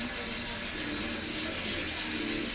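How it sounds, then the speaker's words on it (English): Tap water running steadily into a sink while something is rinsed beneath it, a loud, close, continuous splashing gush with no break. "I'm rinsing off the thing"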